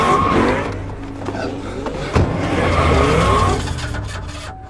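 Cars ram each other during a movie chase scene, with engines roaring and tires skidding and squealing, plus a sharp crunching impact midway through a loud, sustained rush of noise.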